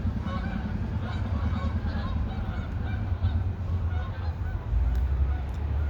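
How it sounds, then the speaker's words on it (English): Several geese honk repeatedly in a noisy chorus outdoors, their calls overlapping steadily against a low rumble of background noise. "Local geese"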